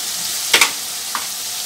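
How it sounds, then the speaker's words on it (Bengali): Garlic paste frying in a pan for a chicken curry, a steady soft sizzle with two quick louder bursts of spattering near the middle and a small pop after, no talk. "রসুন বাটাটা দিয়ে দেবো সুন্দর করে লাল করে সেজে নেব।"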